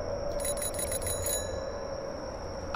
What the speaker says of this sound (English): Dude, I can ring the bell on my bike?